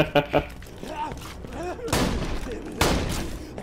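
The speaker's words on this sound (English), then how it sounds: "Shoot some point blank with rocket launchers." Rocket launchers firing point blank in Borderlands 2, with heavy blasts and booming explosions, while players talk and laugh over the gunfire.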